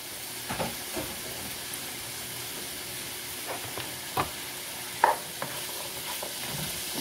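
Vegetables, vegan sausage and canned kidney beans for vegan jambalaya are stirred in a pan, bringing occasional scraping knocks of the spoon over a constant low sizzle, close by and without speech.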